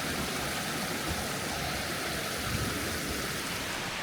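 A forest mountain stream rushes past in a steady, broad wash of flowing water, close and constant with no pauses.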